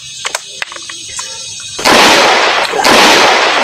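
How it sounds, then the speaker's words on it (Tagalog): Loud, sharp gunshots ring out in the mountains, followed by sustained roaring blasts with ringing echoes, close and powerful. "Grabe na baril to."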